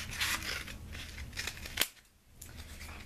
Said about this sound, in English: What you need to do is just get a toilet paper tube. You're gonna cut this evenly in half.